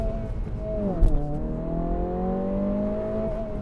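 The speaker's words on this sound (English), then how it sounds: "You can hear the exhaust system, dual exhaust." A 2022 Honda Civic Si's dual exhaust drones close by, its tone dipping then rising steadily as the revs climb, a smooth sustained rumble.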